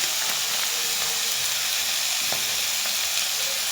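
Crushed olives sautéing in hot oil with spices for olive pickle, a loud, continuous close sizzle with a few faint stirring clicks.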